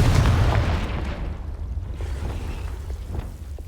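A Confringo fire spell bursts in the Hogwarts Legacy video game, one heavy booming blast up front that rumbles and fades into a low lingering roar.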